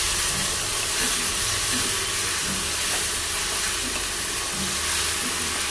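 Garlic, ginger and chili paste frying in a pan for a mutton curry, a loud continuous hiss and sizzle with faint stirring scrapes throughout.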